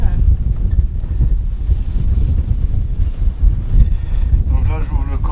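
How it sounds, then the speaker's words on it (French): Gusts of wind buffet the microphone aboard a sailboat, a constant low rumble with brief swells, loud and close, while a voice speaks briefly near the end. "On a un peu de vent aujourd'hui, donc j'espère que le son va pas trop"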